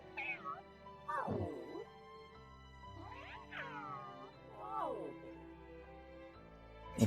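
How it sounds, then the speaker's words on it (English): A cat meows several times in an anime episode, a series of close, rising and falling cries with short pauses between them and a faint background bed. "It's a pretty looking cat."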